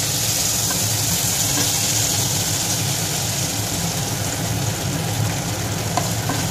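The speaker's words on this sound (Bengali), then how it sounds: "এই সমস্ত জিনিসটাকে আমি একটু এই তেলের মধ্যে ভালোভাবে ভেজে নেব" Whole spices (cardamom, cloves, cinnamon and a bay leaf) fry in hot oil for a chicken korma, making a continuous even crackling sizzle that stays close and steady throughout, with no voices.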